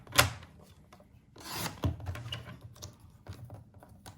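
Paper being trimmed for a handmade card with a paper trimmer, sharp clicks and short rasping slides of the blade, separated by quieter pauses and small handling taps.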